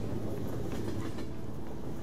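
Train running in the video game Persona 5 Royal, a steady low rumble with faint rhythmic rattling throughout, continuous and moderately loud with no voices.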